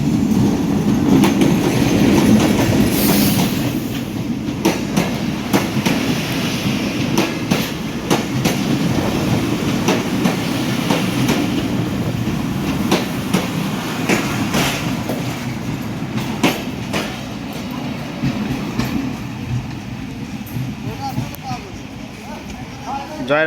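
Rocket express train passing through Joyrampur station on its way to Chilahati: a loud continuous rumble with rhythmic clickety-clack of wheels over rail joints, heard close for the whole stretch.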